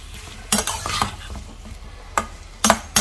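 Onions being stirred and fried in a pan for chana masala, with a few sharp scraping and clinking strokes of a spoon against the metal over a low background sizzle.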